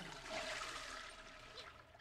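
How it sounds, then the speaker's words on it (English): Running water in The Sims 4, a soft steady rush like a flush or tap, faint and continuous for a couple of seconds with no talk over it. "I swear I hear running water."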